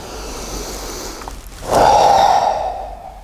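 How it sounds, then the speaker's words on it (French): A single deliberate breath, drawn in through the nose and then pushed out through the mouth, close and clear, the exhale a louder rushing puff, with no talk. "volontairement, on va faire inspire narine, expire bouche"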